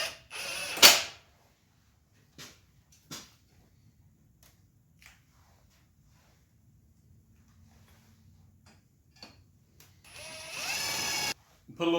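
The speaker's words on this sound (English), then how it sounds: "Just going to fasten it with some 5/16 self-tapping screws." A drill drives 5/16 self-tapping screws to fasten a bracket, giving a short, sharp burst early on and a longer whirring run near the end, with quiet handling sounds in between.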